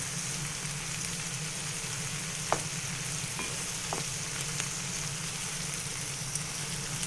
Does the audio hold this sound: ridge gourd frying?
yes